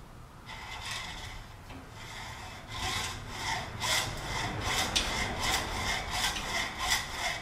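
A hand saw cuts through a piece clamped in a wall-mounted vise, making rhythmic back-and-forth rasping strokes that grow louder and more regular as the cut goes on.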